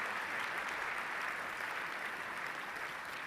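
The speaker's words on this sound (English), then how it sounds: "If we get a round of applause for all of our speakers tonight" Steady, dense applause from a large audience at a formal evening dinner event, a continuous wash of many hands clapping that holds at an even level throughout, with no voices standing out.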